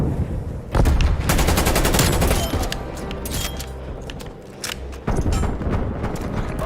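Hostile automated sentry turrets firing in Call of Duty Cold War: dense, loud bursts of rapid gunfire and booming impacts that dip briefly near the end, then surge back.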